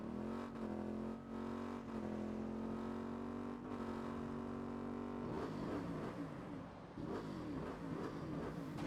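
Video game car engine in Saints Row revving, a steady droning tone that holds and then climbs in a series of rising revs toward the end, alone without speech.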